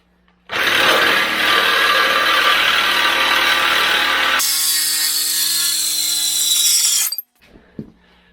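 Loud, close Sawzall reciprocating saw cutting into a metal rock slider to widen a cut, running continuously for several seconds with a shift in pitch midway, then stopping, followed by a few light knocks.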